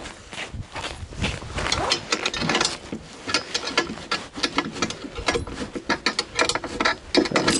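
Outdoors in cold wind, a 17 mm wrench works bolts loose while a motorcycle pusher is taken apart, giving dense, uneven metallic ratcheting clicks and scrapes up close.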